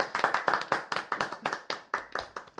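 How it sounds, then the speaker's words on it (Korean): A small group of people on a Korean talk show clap their hands, with about a dozen sharp, close claps in an uneven run over a few seconds and no other sound. "이거 박수 한번 쳐야 돼요."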